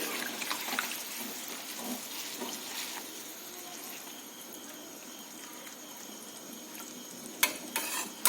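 Chicken curry, a thin Bengali-style gravy, simmers in a pan while it is stirred and water is poured in. A steady broadband hiss of cooking continues throughout, with occasional scraping stirs and a few sharper clinks near the end, and no talking.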